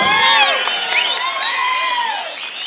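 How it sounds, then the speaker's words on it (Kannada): A crowd at a Karnataka labour department smart card distribution event for unorganised workers bursts into sustained applause and cheering, with whoops and shouts layered over steady clapping, loud and close throughout. "ಇದು ಚಪ್ಪಾಳೆ"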